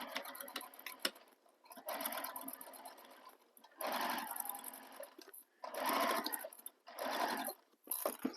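Sewing machine running top stitch length along the side of a handmade bag, in several sustained bursts of whirring stitching separated by short pauses, close and fairly quiet with no talk.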